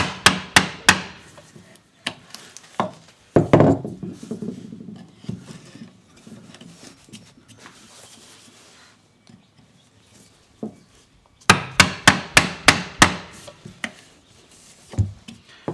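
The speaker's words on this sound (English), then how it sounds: "now I'm going to turn it so that the flat of the chisel is facing the edge" A hammer drives a chisel to chop a mortise in wood for a Queen Anne side table. Sharp, close blows land in quick clusters at the start and end, with quieter scraping and paring between.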